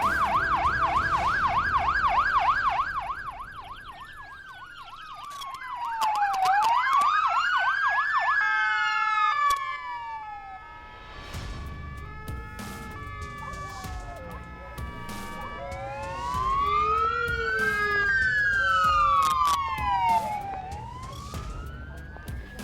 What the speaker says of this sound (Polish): Odjeżdża karetka do szpitala.